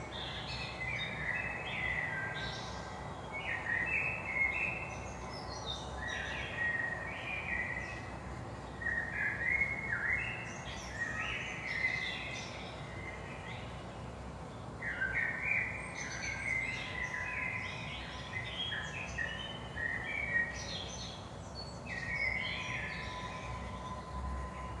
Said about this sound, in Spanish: Estoy fascinada con el sonido de los pájaros.